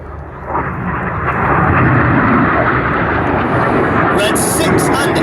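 RAF Red Arrows jets performing at Old Buckenham Airshow make a loud, sustained roar that swells in the first second and stays powerful as the aircraft pass, with a public-address commentator talking over it.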